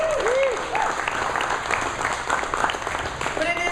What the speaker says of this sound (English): how about a big round of applause for our panelists that are here this evening, right?